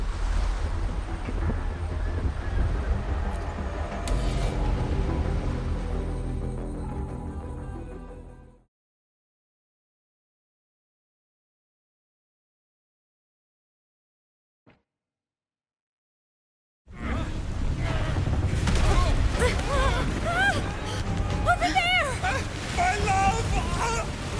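The ship Pequod setting sail at sea in the game Wuthering Waves: loud, steady wind and rushing water for several seconds, then sudden silence broken by one tiny click, before the roaring wind and waves surge back in full.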